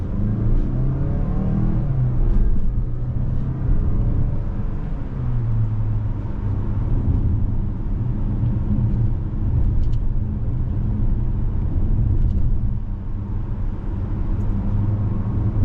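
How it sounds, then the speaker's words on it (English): A 2025 Mazda CX-5 Turbo Signature compact SUV driven through turns, its loud, steady cabin rumble of engine and road noise rising and falling slightly as it accelerates. "Gets up to speed easily, handles the turns just fine."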